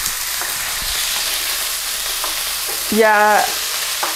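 Oil sizzles loudly and continuously in a pan while food for chicken fried rice is stirred, with scraping bursts of the utensil. Near the end a person briefly speaks over it.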